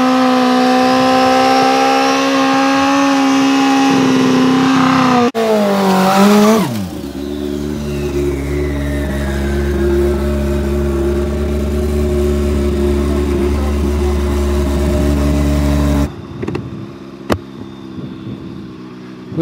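Turbocharged Kawasaki ZX10R motorcycle on a drag pass: loud high-revving engine note holding steady, a brief burst and rising sweep, then a long strong run with layered harmonics before cutting off and dropping away near the end.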